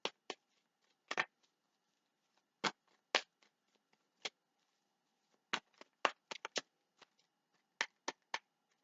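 A large stack of tarot cards being shuffled by hand in quiet surroundings, with sharp papery riffles and slaps arriving in irregular bursts, close and crisp, some quick clusters and short pauses between.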